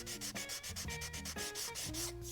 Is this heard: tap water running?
no